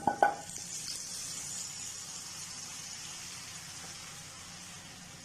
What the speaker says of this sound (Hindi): इतना तड़का डालेंगे।